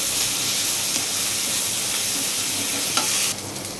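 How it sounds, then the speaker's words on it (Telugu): Curry leaves and spices fry in a hot pan with a loud, steady sizzle and hiss, stirred throughout, with a faint scrape near the end. "ఇప్పుడే అన్నీ వేసుకొని కలుపుకోవాలండి"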